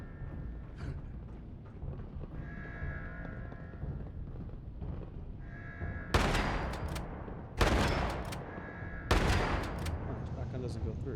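Three loud, close shotgun blasts from Fallout 76 at roughly even intervals in the last third, each cracking sharply through ongoing game noise and chatter.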